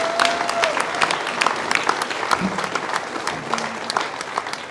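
A crowd applauds a son's high school graduation at a concession event, a sustained clatter of many hands clapping throughout, fairly close and even, with faint murmurs underneath.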